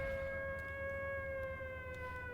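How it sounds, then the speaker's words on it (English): Steady, wailing air raid siren over an airbase under attack in the IL-2 Sturmovik flight game, holding a sustained tone throughout at moderate distance without speech. "The sirens are sounding."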